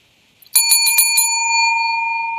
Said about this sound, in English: We ring our bell now.